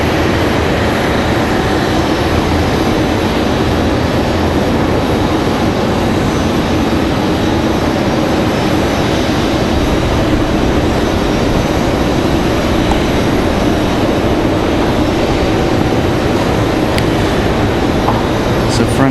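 A CRJ regional jet at Raleigh-Durham airport, a loud steady broadband engine rumble running unbroken throughout with no talk over it.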